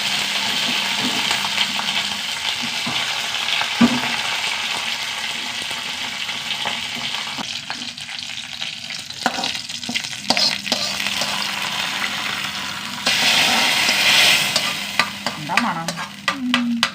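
Dried red chillies and curry leaves sizzle in hot oil during tempering, with a steady close hiss of frying and a few stirring clatters; the sizzle grows louder near the end.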